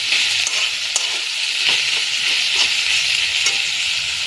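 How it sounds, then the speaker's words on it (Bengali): Soybean curry with salt and turmeric sizzles in a pan while a spoon stirs it, steady frying hiss with soft scraping strokes and occasional clicks, close up and without any voices. "হলুদটাও দিয়ে দিচ্ছি, ভালো করে নেড়ে চেড়ে নেব।"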